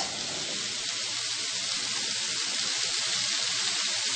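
Potatoes going into a hot pan for aloo methi, a steady, bright, hissing sizzle that holds at an even loudness throughout, with no talk.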